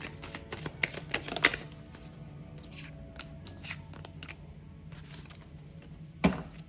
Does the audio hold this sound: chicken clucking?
no